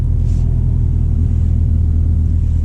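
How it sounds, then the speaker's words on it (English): A loud, deep V10 engine rumble drones steadily from the exhaust of an Audi R8 Spyder V10 Performance, a constant low growl with no talking. "so now we have the exhaust sound"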